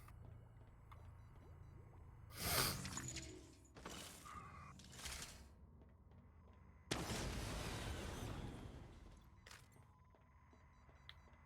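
Video game turrets trade fire, a few heavy booming bursts and a long rumbling barrage, fairly faint and separated by quieter stretches.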